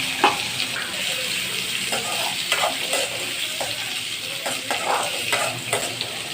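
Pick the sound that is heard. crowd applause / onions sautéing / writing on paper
onions sautéing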